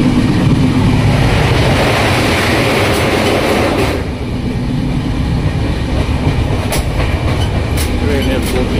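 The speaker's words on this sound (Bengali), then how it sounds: "ট্রেন প্রচণ্ড গতিতে যখন সামনের দিকে এগিয়ে যায়" A train rushing forward at high speed, heard from on board as a loud, continuous rumbling roar with a brief dip partway through and faint rhythmic clatter from the wheels.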